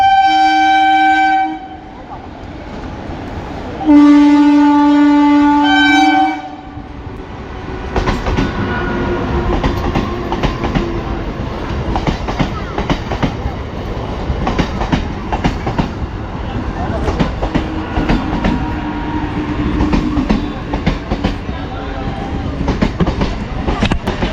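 Two loud train horn blasts, then a train from Sealdah rumbles into Plassey station with rhythmic clattering wheels over the rails, growing steadily and continuing.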